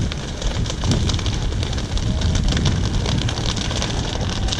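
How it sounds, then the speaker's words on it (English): A wildfire crackles densely and continuously as it burns through fuels, sharp pops scattered over a loud, steady roar like wind, with no talking. "you can really hear the crackle of the fire as it's burning through some of those fuels"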